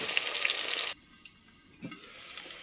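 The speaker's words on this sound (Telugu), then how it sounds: "పుదీనా ఆయిల్లో బాగా ఫ్రై అయ్యి మంచి ఫ్లేవర్ వస్తుంది" Mint and onions frying in oil, a dense sizzle that cuts off abruptly after about a second, leaving a quiet hum with a few faint knocks afterward.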